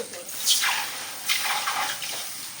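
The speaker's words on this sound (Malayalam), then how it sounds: "ഇതിലേക്ക് നമുക്കില്ലേ വെള്ളം ഒഴിക്കാം" Water splashes into a pot of buffalo leg being cooked in two or three gushes, with trickling between pours, fairly quiet and close.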